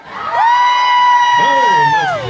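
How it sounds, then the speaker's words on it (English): Large crowd at an outdoor Christmas carnival in the town square, cheering and whooping loudly and continuously for about two seconds, a sustained roar of voices with a rising shout. "Give a big cheer to TCR FM!"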